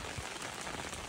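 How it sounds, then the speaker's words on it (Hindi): Heavy torrential rain pours down in Karachi, a dense, steady hiss of drops hitting surfaces that fills the whole short stretch without a break, loud and close. "इस वक्त मूसलाधार बारिश हो रही है"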